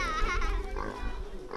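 Pigs grunting and snorting close by on a farm as they are let out of their pen in the morning, a dense, continuous run of low grunts with no talking.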